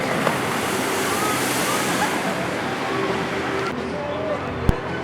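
A log flume boat at an amusement park splashing down after the big drop gives a steady, loud rush of churning water that fills the whole clip, with a brief knock near the end.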